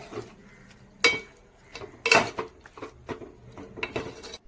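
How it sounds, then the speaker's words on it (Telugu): Metal cookware clatters as tomatoes are stirred into a pot of chicken curry and the lid is set back on: a few sharp clanks and scrapes spaced over a few seconds, close and fairly loud, with no talking. "ఇప్పుడు టొమాటోస్ అందులో వేసి ఒకసారి కలుపుకొని మళ్ళీ మూత పెట్టి టొమాటోస్ మగ్గిపోయేంత వరకు ఉడికించండి"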